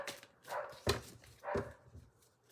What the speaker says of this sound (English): Dog's kicking off next door